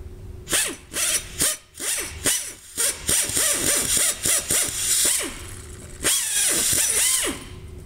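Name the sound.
drilling aluminum with a 5/16 drill bit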